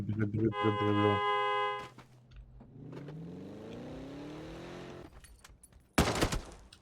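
A burst of sustained rapid gunfire crackles in PUBG, followed by an engine-like whine and a sharp loud final burst, with voices under it.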